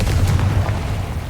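A deep, loud boom from a Confringo blasting spell in Hogwarts Legacy, a sustained low rumbling blast with no voices over it.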